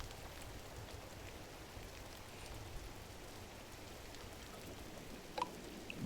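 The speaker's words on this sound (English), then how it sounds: "It's raining now." Steady rain falls in the video game GRIS, a dense even hiss that holds at constant loudness throughout, with a few brighter drips near the end.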